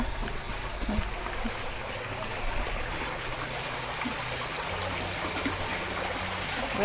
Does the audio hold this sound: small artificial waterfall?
yes